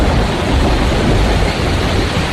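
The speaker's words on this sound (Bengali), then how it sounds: "কিন্তু এই ঝড় বৃষ্টির মধ্যে আশ্রয়ের খোঁজে এগিয়ে যাওয়া সম্ভব নয়।" Loud, dense roar of heavy rain in a thunderstorm in a forest, a continuous wash of noise with a deep rumbling undertone throughout.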